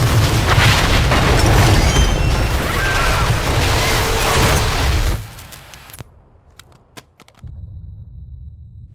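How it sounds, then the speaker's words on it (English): A massive explosion in a residential neighborhood from a Marvel Ultimate Alliance 2 cutscene, a loud, sustained rumbling boom lasting several seconds before cutting to near silence with a few faint clicks. "indicate a massive explosion in a residential neighborhood"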